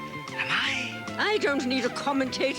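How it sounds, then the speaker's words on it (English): A cartoon cat meows in an animated Alice in Wonderland scene at the Caucus Race, its short, rising and falling cries close and clear, mixed with spoken dialogue. "A cat. I recognize that cat."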